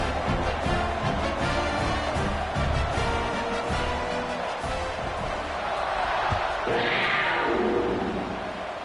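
A large stadium crowd roars steadily at a football kickoff, a dense wash of cheering with muffled thumps, swelling slightly toward the end.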